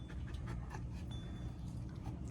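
A puppy pants close by in quick, rhythmic breaths with faint soft whimpers, steady and unbroken for a couple of seconds.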